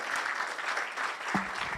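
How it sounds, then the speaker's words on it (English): Audience applause for the headline sponsor's PR manager at the NSMQ 2023 national championship launch, a steady wash of many hands clapping, fairly even in level, with a brief voice near the end. "give him a round of applause"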